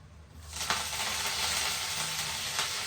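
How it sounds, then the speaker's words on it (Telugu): Cumin seeds and dried red chillies hit hot oil, setting off a bright steady sizzle after a quiet start, with a couple of sharp crackles as more goes into the pan. "ఆయిల్ హీట్ అయ్యాక జీలకర్ర యాడ్ చేసేసుకుందాం యాడ్ చేసేస్తున్నాను ఎండిమిర్చి కరపాక్"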